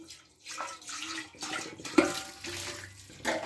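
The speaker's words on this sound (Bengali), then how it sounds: "এবার ঠান্ডা জলে একটু ধুয়ে নিচ্ছি।" Boiled veg chow mein noodles get rinsed in cold water, heard as several short uneven bursts of splashing and pouring up close, with brief quiet gaps between them.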